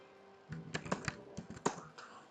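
Computer keyboard keys tapped in a short burst of about eight quick, irregular clicks, close and fairly quiet, during copy work for a microcontroller simulation; no voices.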